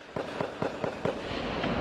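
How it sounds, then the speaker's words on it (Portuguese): A rapid string of sharp gunshots from a midday shootout on Avenida Brasil in Rio de Janeiro cracks about every quarter second over a dense, steady roar of street noise. "Os tiros levaram pânico a quem passava pela Avenida Brasil no início da tarde."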